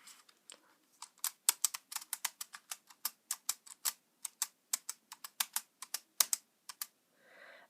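Fingers press the keys of a braille notetaker keyboard in quick, irregular bursts of crisp clicks and taps, close and fairly quiet in a silent room.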